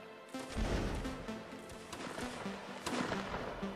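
A volley of musket fire in a 54th regiment line-battle game: a dense burst of overlapping shots cracking out together near the start, followed by scattered reports and rumbling echoes over constant battlefield noise.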